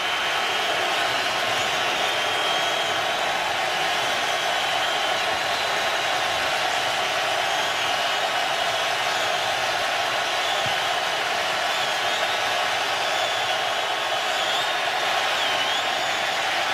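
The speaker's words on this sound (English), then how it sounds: "Listen to this crowd." Loud stadium crowd roaring at a Saints vs Falcons NFL football game in Atlanta, a dense sustained wall of cheering and noise holding steady throughout with no clear voices on top.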